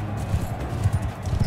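Horse hooves gallop in the medieval combat video game Mount and Blade II: Bannerlord, a rapid, rhythmic drumming of clip-clop beats heard close and steady over a low background hum.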